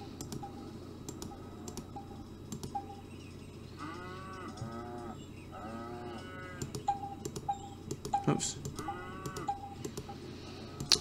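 Cartoonish cows in a McDonald's simulator farming game moo repeatedly, several short drawn-out calls in a row over a steady game background hum, mixed with scattered mouse clicks and interface blips.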